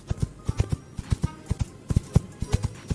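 Stones knocked together mimic a horse's hooves, producing a fast, loud, close clip-clop rhythm of sharp, evenly spaced knocks in galloping pairs and triplets.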